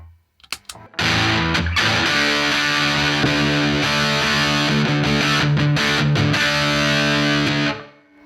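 Electric guitar played through a 1979 Boss DS-1 distortion pedal: a few quick string scrapes, then several seconds of loud, saturated strummed chords that stop with a sudden mute.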